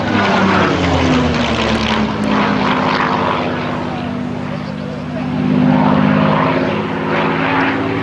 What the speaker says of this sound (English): Who wouldn't on a gorgeous day like this flying a Spitfire?